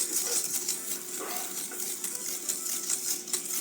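Cake ingredients stirred in a bowl for a chocolate cake, a steady scraping and swishing that runs continuously at close range with small rhythmic pulses.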